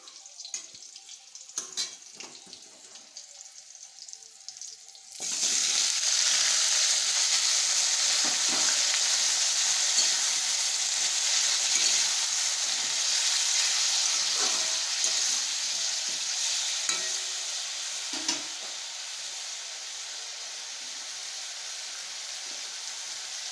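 Boiled green mango chutney goes into a hot pan. A few quiet clinks come first, then a loud, steady sizzle erupts and holds while it is stirred.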